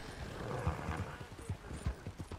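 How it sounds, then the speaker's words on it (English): Horse hooves in the game Red Dead Redemption 2, a quiet run of uneven clip-clop steps at a walking pace over a soft background, with no talking. "You really need to learn how to ride a horse better, though."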